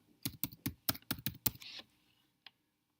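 Typing on a computer keyboard while working in an Excel spreadsheet, a quick run of about eight close, crisp key clicks followed by a pause and one last isolated tap.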